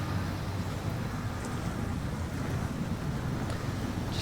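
A Scout 800 truck plows into deep water in SnowRunner, a dense continuous wash of sloshing water and low rumble with no voices.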